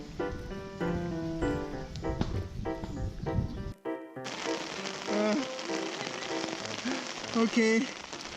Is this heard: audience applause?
no